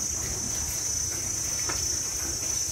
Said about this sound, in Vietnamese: Đây ve sầu cũng nhiều á anh Hùng á.